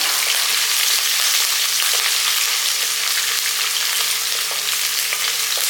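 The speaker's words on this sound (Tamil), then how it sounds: "ஒரு மூணு பச்சை மிளகா போடுங்க சின்ன வெங்காயம் கொஞ்சம் கொஞ்சம் வதங்கட்டும்" Small onions and green chillies sauté in hot oil, giving a steady, even sizzle of frying that runs unbroken throughout, close and fairly loud with no voices.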